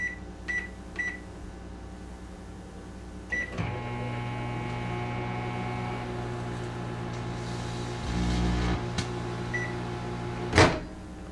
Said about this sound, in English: Insert the grape into your microwave